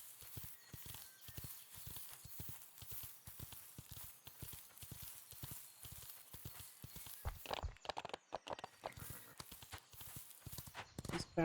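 Hooves of a video game horse clip-clop in a steady walking rhythm, close and distinct, with a few brief stray sounds near the end.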